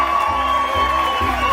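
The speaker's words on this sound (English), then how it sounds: "let's keep that applause going" Wedding guests clap and cheer at the reception, a steady crowd roar with whoops running throughout, loud and close.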